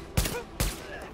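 Two sharp gunshot bursts in the video game Tom Clancy's The Division, loud and close, about half a second apart, each with a brief tail over a steady low background.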